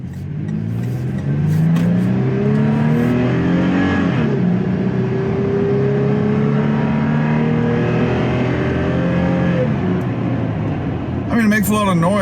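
A 2021 Toyota 4Runner TRD Off-Road Pro in sport mode accelerates hard, its engine droning and climbing steadily in pitch through the gears, loud and close from inside the cabin, with a voice talking over it.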